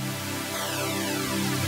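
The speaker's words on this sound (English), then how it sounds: "This is the super saw layer I've been speaking about." A dense, buzzing super saw synth layer in an electronic drop holds a wide, sustained chord, steady and loud, with a slow sweeping shimmer running through it and no voices.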